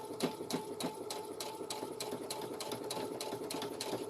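A sewing machine stitches the neckline of a girl's dress, its rapid even needle clatter running steadily and close throughout with a regular pulsing rhythm.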